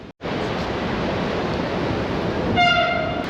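Loud, steady roar of a train rushing through an enclosed tunnel in the Cinque Terre, rumbling broadband noise with a whining tonal squeal rising near the end.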